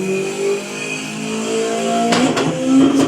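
Car engine revving in a racing sim video game, a sustained mid-pitched engine drone with shifting tones and sharp bursts near the end, steady and close with no talk.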